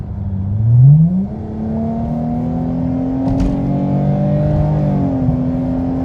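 A V6 Dodge Challenger fitted with a 3.90 limited-slip differential accelerates hard, its engine note rising in pitch, then holding a steady drone as it pulls onward with a brief shift mid-run.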